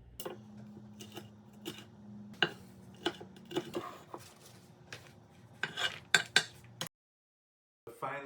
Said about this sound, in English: I use a melon bowler for that, works just right. Scrape the seeds out.